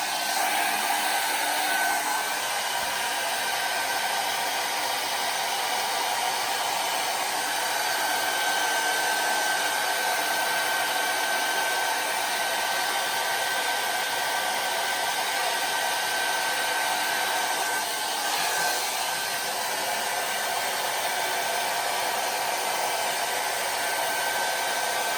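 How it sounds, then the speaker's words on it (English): A hair dryer blowing cold air runs at an even, steady whoosh, close and unbroken from start to finish, with no voices. "hold the blow dryer straight like this and go down, so you're pushing that hair down"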